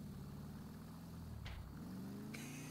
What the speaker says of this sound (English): So this is my other car, but listen to it when I drive it.